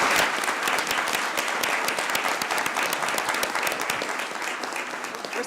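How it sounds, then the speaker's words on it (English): Audience members at a city council meeting give sustained, dense applause, a steady roar of many clapping hands that holds strong for several seconds before easing slightly toward the end. "Let's give them another round of applause, folks."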